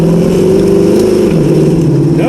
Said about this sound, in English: we're gonna go ahead and hit a second gear scratch here and see if it rubs